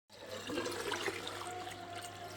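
Water pours and sloshes over raw ration rice as it is washed, a faint continuous splashing trickle with no voices.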